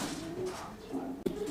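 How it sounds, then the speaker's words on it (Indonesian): A kolong pigeon cooing, soft low repeated coos close by, faint and alone with a brief sharp knock near the end. "Ini merpati kolong."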